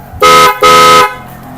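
A new aftermarket car horn gives two loud, bright blasts close by, the first shorter and the second held longer, with a low idle rumble between.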